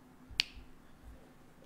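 A single sharp finger snap, copying the snap from Endgame, cracks out near and crisp in an otherwise quiet room.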